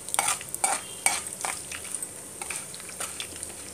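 Ingredients for tamarind rice (pulihora) frying in a pan, with a steady sizzle under repeated scraping stirs from a utensil, close and moderately loud, no voices.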